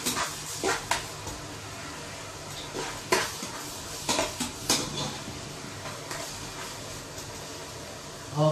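Chopped chicken is stirred into a pan of cooking garlic and onion for pancit bisaya, with scraping, clinking utensil strokes and a light sizzle in irregular bursts, close up and moderately loud, with no talk.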